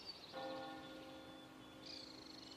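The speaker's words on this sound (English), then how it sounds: "For centuries, the church bells here have rung to call the faithful to worship." A church bell in Normandy, France strikes and its deep tones ring on with a long, shimmering sustain, followed by a second strike near the end.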